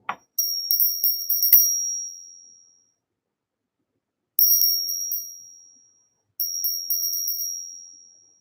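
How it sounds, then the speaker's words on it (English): A high, shrill bell rings loudly in three separate bursts of rapid strikes, each decaying into silence before the next. "Sorry if that bell is really loud"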